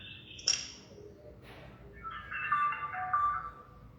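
A mobile phone ringtone plays a chirpy electronic melody, moderately loud and close over a low background hum. A few brief tones come first, then a sustained warbling tune.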